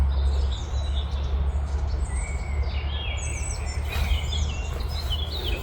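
Several birds twitter near open farmland in Porsgrunn, Norway, with scattered high chirps and short trills rising and falling over several seconds above a low, steady background rumble.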